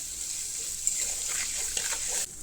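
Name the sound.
fenugreek seeds frying in oil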